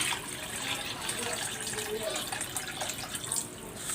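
Water pours from a tap into a pan holding chicken pieces for soup, a steady rushing splash that runs continuously and fairly close.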